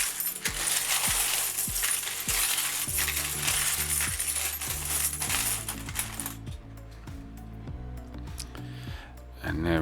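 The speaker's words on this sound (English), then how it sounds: "The silver coins back in the tub." Pre-decimal coins, including silver ones, drop into a tub in a steady stream of bright metallic clinks and jingles, close and loud, continuing for several seconds with no talking over them.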